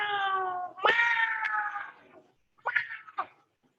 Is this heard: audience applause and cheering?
no